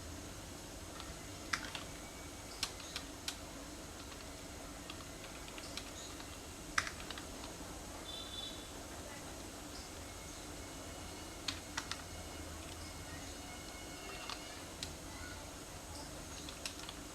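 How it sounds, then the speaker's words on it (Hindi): Steady typing on a computer keyboard while working in a Microsoft Word document, with soft rapid key clicks running throughout over a faint background hiss and no talking. "यहाँ पे हम कुछ टाइप करते हैं।"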